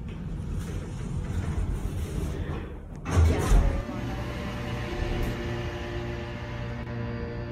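Elevator hoist motor running steadily with a low mechanical drone throughout a ride on top of the car, broken by a louder thump and rumble partway through, with no one speaking.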